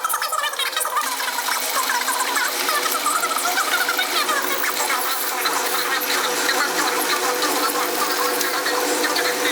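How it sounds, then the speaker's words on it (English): A drill bores 4mm holes in the middle of a workpiece while making a center finding tool, giving a continuous, close mechanical whirr with a busy, rattling texture and no pauses. "So we're drilling the middle bits now, and it's 4mm."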